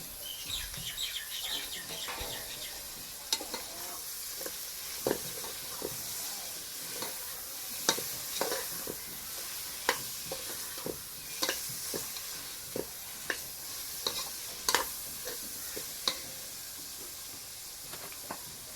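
Tomatoes, mint and coriander leaves fry in a pan for chicken biryani, a soft steady sizzle with sharp scraping clicks of stirring at irregular intervals, fairly quiet, no talking.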